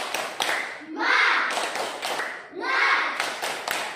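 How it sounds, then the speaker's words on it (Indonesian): A classroom of children does a rhythmic spirit clap before a lesson, sharp group claps and taps in a quick pattern, with two loud bursts of children's voices shouting in unison between them. "sebelum kita mulai pelajaran, kita tepuk semangat dulu."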